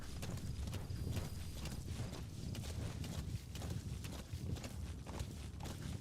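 D-Horse in the stealth game Metal Gear Solid V trots with steady, rhythmic hoofbeats that carry on throughout, fairly close, over low ambient noise.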